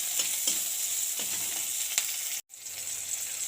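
Ginger-garlic paste frying in a pan with onion, a steady close sizzle broken by scraping stirs about every half second, then a brief silent gap before the sizzle resumes.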